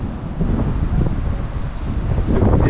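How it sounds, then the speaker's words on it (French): Steady rush of surf and wind buffeting the microphone on the island of Kos, a continuous low roar of waves with no voices. "Le bruit des vagues, l'eau est turquoise."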